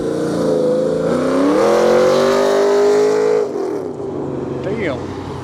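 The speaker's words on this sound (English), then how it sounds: "Got a nice little Camaro rolling through." A Chevrolet Camaro rolls past at a Cars and Coffee meet in Anaheim, its engine note loud and close, rising then fading as it passes, with crowd chatter and voices underneath.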